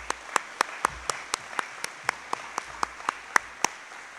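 Clapping at a high school senior athletic awards night, sharp individual claps in a steady rhythm about four per second, standing out close over a quieter room.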